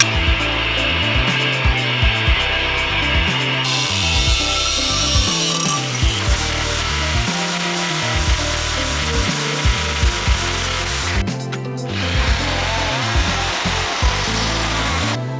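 A worn drill bit boring holes in a heavy steel bumper bracket: a loud, continuous grinding and chattering drone close to the listener, with a brief harsh scraping burst near the end.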